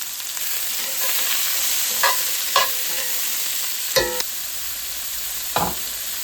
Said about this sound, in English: We're going to add all of our vegetables and bay leaves to this pot. We'll let that saute a little bit, get nice and soft.